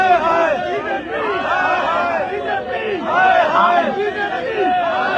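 A large protest crowd fills a street in Jammu and Kashmir, thousands of voices shouting and chanting together in a dense, continuous roar that surges louder in waves.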